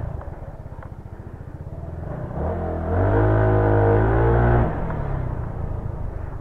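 Stock Yamaha Mio scooter with a stock pipe idling with a rapid putter, then revved up hard to a sustained high-pitched whine for a couple of seconds before dropping back to idle, close and loud.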